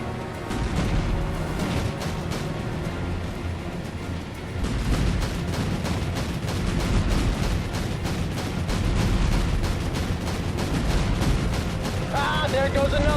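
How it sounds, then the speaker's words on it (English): Anti-aircraft guns in the naval combat game Battlestations Midway fire at Cape-class torpedo bombers, a relentless rapid stream of close, heavy bangs and booms that goes on without pause, with some speech mixed in. "Concentrate AA fire on those Capes."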